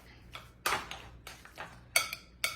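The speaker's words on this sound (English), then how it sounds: "So I stir that all up." A spoon stirs a black bean burger mixture in a bowl, making a few sharp, close clinks and scrapes in an irregular rhythm, quiet between strokes.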